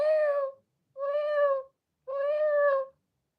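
A person imitates a high-pitched cat meow, producing three drawn-out, tonal mewing calls separated by short silences, clear and close with no other sound.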